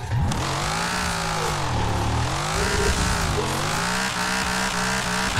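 A drift car in Forza Horizon 4 revs hard and loud, its engine pitch climbing and dipping in repeated sweeps as tires squeal under it, continuous and up close with no talk.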